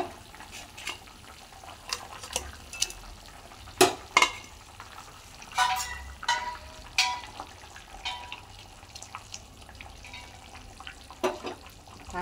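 Fish pieces going into a simmering folui fish jhol with potato and tomato, bringing scattered soft splashes, clinks and bubbling sizzle in a pan, moderately close, with no talking.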